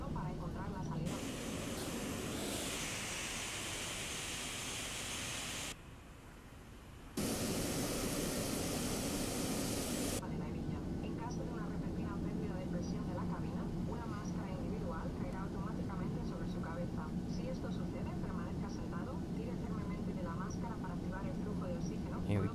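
Boeing 737-800 jet engines roaring on the runway in a flight simulator game, a steady broadband rush that drops briefly, then surges louder and holds for the rest, with a voice talking over it.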